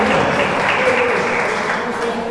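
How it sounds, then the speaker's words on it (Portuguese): A congregation applauds during a sermon by a Brazilian pastor, a dense wash of clapping heard close and loud. "Você pode dar uma salva de palmas para Ele."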